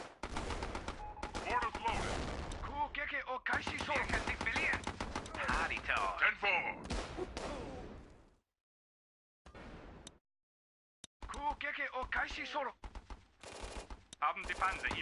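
In the video game Battle Islands Commanders, the Juggernaut tank fires loud rapid machine-gun bursts and cannon shots in dense volleys, broken by a brief quiet gap before the fire resumes.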